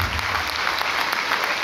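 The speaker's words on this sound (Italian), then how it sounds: "facciamo con un applauso Maria, grazie!" Audience applause from a live theatre or comedy-show crowd, a dense steady wash of many clapping hands, loud and close, filling the whole short moment with no talk over it.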